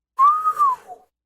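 A person gives a single clear whistle, a bright sustained tone that rises slightly, holds, then dips and fades out in a short trailing note, close and alone in silence.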